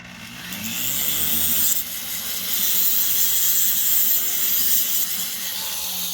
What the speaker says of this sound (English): So these little grinders actually allow you to cut the stone pretty easily.